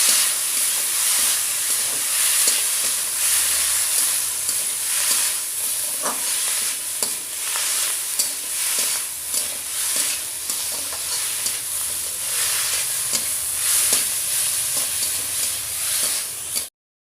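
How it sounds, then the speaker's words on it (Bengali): Leafy greens being stirred in a hot frying pan for a fish and greens dish, a loud continuous sizzle and hiss with constant scraping and tossing of the spatula throughout, no voices. "এবার দেবো শাকটা শাকটাকে ভালো করে একটু নেড়ে নেব"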